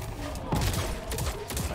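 Bombs dropping in the video game Crucible, a quick burst of several sharp impact thuds and crackles in rapid succession, with a voice talking faintly underneath.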